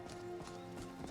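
A horse in Skyrim clops along in a steady rhythm of hoofbeats, about three strikes a second, close and even over a low droning game background, with no whinny clearly standing out.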